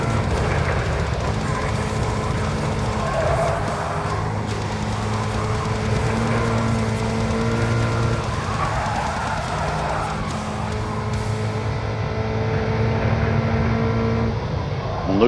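Subaru BRZ engine in a racing video game, a steady sustained drone with rising and falling rev tones throughout, loud and continuous with occasional tire noise.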